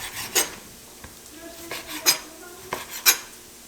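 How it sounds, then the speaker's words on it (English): A knife cuts raw lamb shoulder into small pieces on a board with several sharp scraping, clacking strokes at irregular intervals, close up, with faint kitchen clatter between. "I'm going to cut this meat here because I'm going to cut them in small pieces"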